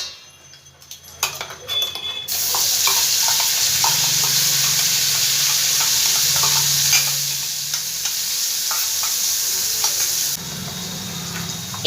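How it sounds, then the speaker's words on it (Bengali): Ground spice paste hitting hot oil for a shrimp and taro stolon dish: a few clinks of utensils, then a sudden loud, close, steady sizzle that holds for several seconds before easing slightly. "এবার এই তেলের মধ্যে আমি বেটে রাখা মশলাটা সব দিয়ে দেবো"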